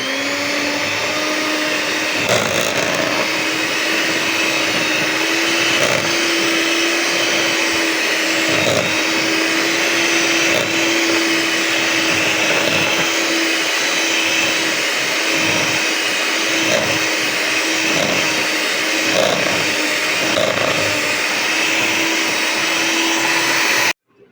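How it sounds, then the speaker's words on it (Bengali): An electric beater whirs steadily and loudly through a rasmalai ice cream mixture, its motor hum holding even with slight pulsing for over twenty seconds before cutting off. "এখন এটাও আমি সম্পূর্ণ আবার বিট করে নিচ্ছি"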